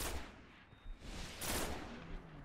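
Gunfire from a heavy gun in Destiny 2 Iron Banner multiplayer, several booming shots in quick succession among other battle noise, with a sharp crack standing out near the middle.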